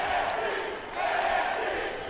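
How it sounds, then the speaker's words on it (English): A roaring arena crowd cheers in WWE 2K18 during an NXT match at Full Sail, a dense continuous swell of voices that dips briefly and surges again. "crowd in Full Sail loving it."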